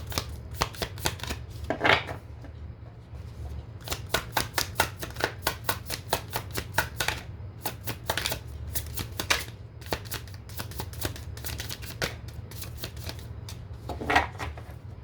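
A tarot deck is shuffled over and over in quick crisp riffling bursts of card flicks, close and loud, with short pauses between runs and a low steady hum underneath.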